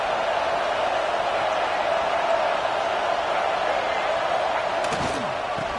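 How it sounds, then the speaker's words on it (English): A home crowd at a college football game roars steadily and loudly throughout, a dense wall of stadium cheering with a brief sharper burst near the end. "how nice is it to have the home crowd going absolutely bananas?"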